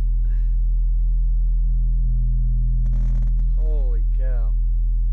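A steady 40 Hz bass test tone plays from a subwoofer inside a Ford F-150 or GMC 1500 pickup truck at half volume, a constant deep hum beneath brief speech from people in the cab.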